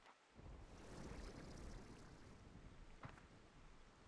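Steady broadband rain hiss from the Slime Rancher 2 video game, continuous and fairly loud throughout with a brief brighter burst near the end, no talk over it.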